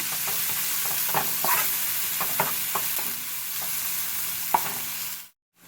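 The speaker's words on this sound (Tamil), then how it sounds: "உப்பு கொஞ்சம் போட்டு வதக்கினீங்கன்னா கொஞ்சம் சீக்கிரம் வதக்கலாம்" A steady sizzle of tomatoes frying with salt in a pan, with scattered scraping clicks from stirring, cutting off abruptly near the end.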